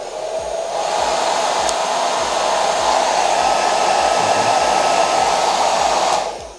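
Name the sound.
Philips Hair Dryer 3000 BHD30830 running, foldable 1600 watt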